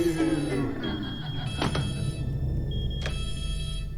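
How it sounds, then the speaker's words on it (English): An alarm sounds in the TV drama Fargo as something burns in an oven, with high piercing electronic tones sustained over a steady background rumble and a couple of brief clattering bursts. "Gonna set off the alarms."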